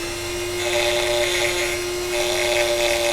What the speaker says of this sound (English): And I'll take my Dremel tool and just file it off.